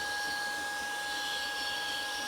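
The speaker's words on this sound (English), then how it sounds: "I'm finding it very difficult for the vacuum to actually pick up any of the bits" A Shark IZ251UK cordless vacuum cleaner runs inside a car, giving off a steady, fairly quiet airy hiss with a thin constant whine on top. It continues without a break, and no one speaks.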